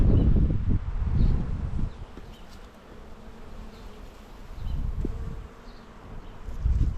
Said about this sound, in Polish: No i mamy też pszczoły na mniszku